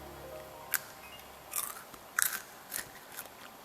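Jolly Time cheese-flavored microwave popcorn is chewed close to the mic in a few sharp, scattered crunches and bites over quiet background, with no talking.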